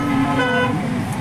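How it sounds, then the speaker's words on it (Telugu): Dense road traffic at Vanasthalipuram with horns tooting over a steady, close rumble of engines, the honks layered and continuous. "ఫుల్ ట్రాఫిక్ ఉంది ఇక్కడ."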